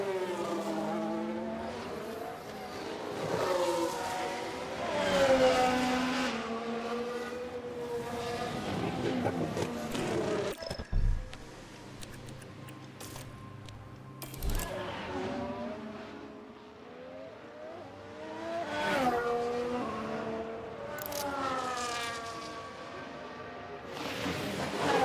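F1 cars on qualifying laps at Hungary in F1 Manager 2013, engines droning and rising in pitch through repeated upshifts, with one quieter gap mid-way before the high revving returns, steady and moderately loud.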